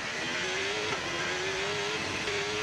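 A race car in a racing video game drones through a corner, its engine holding a steady, slightly rising tone at moderate volume with no talking.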